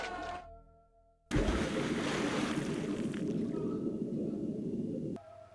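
Rushing, splashing water pours down from a ceiling and floods a room in the video game Mortal Kombat Mythologies: Sub-Zero, a loud steady roar that cuts in abruptly after a quiet lead-in and stops just as suddenly.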